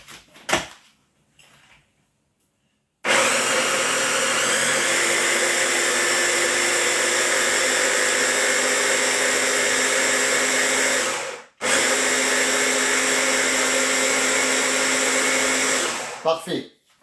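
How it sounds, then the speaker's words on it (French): A blender purees vegetables for a homemade pesto rosso, giving a loud, steady whirring drone that runs for several seconds, halts briefly, then starts again before cutting off. No one speaks. "Je vais changer mon support pour le mixeur."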